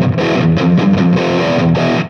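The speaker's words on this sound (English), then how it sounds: "It's a Marshall style amp with a tube screamer in front of it" An electric guitar played through a Marshall-style amp preset with a Tube Screamer in front on a Fender Tone Master Pro gives loud, heavily distorted chugging riffs with sustained chords, close and alone.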